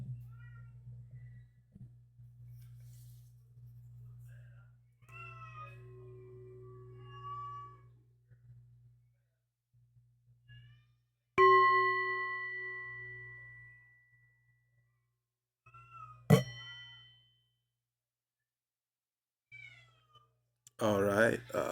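A cat meows repeatedly while being fed, several separate tonal cries spread across the stretch with pauses between, over a steady low hum and some faint background talk, ending in a burst of clatter.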